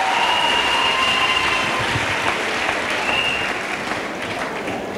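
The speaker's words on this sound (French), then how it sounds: "Let us clap for Jesus Christ." A church congregation applauds for Jesus Christ in loud, sustained, crowded clapping that fills the whole stretch, with a faint high tone heard early on.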